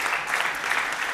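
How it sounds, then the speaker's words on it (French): Audience applause at a French business conference on impact-driven companies: a continuous, dense wash of many hands clapping, steady and moderately loud with no voice over it. "on vous applaudit"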